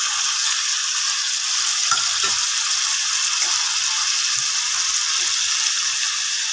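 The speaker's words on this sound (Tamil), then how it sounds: "நல்லா மிக்ஸ் பண்ணி கொஞ்சம் வதங்கிட்டு வதங்கிடுச்சு" Tomatoes sautéing in a pan with cinnamon-clove powder, garam masala and chili powder for a mushroom gravy: steady, loud, close sizzling frying with occasional soft stirring scrapes, no voices.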